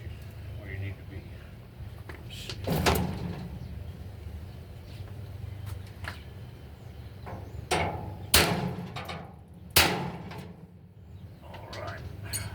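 A few sharp metallic taps from a hammer striking a center punch on greenhouse metal, spaced irregularly over a low background hum and some handling noise.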